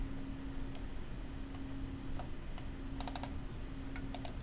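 Quiet keyboard typing in a Visual Studio project setup, a few scattered key taps and then quick clustered bursts of clicks over a low background hum, with no talking.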